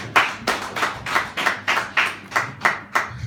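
A church congregation claps in unison, producing a regular beat of about nine evenly spaced, crisp collective claps over three seconds, with no talking.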